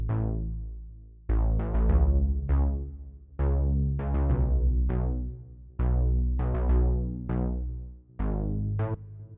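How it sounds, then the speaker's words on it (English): An Afrobeats bass line played on an Alchemy synth in Logic Pro X, plucky bright-attack notes that decay quickly, arriving in repeating rhythmic phrases over a steady low foundation, solo and with no voices. "And then copied the same bass line over onto an Alchemy sound."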